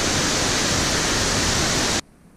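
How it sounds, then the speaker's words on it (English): Loud, steady roar of a waterfall pounding down in a Tasmanian rainforest, a dense full-range rush heard up close that cuts off abruptly near the end into quiet. "You can feel the water from the waterfall just against our backs all over us."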